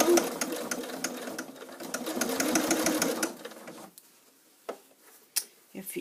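A sewing machine stitches the side seam of a fabric getaway bag through thick binding, running in a steady loud rattling burst for about four seconds, then stopping, with a few faint clicks and handling sounds afterward.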